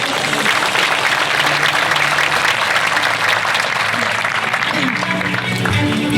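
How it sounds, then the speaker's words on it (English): Audience applause at a mayor's State of the City address in Chula Vista, a loud, dense burst of clapping that carries evenly throughout, with a voice briefly audible under it toward the end. "Give some more applause to that."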